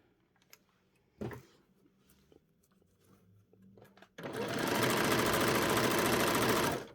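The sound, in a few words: sewing machine sewing a straight stitch joining skirt to bodice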